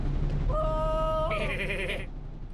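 Goat bleating in the video game Goat Simulator, one drawn-out wavering bleat lasting over a second, loud over a steady background hum.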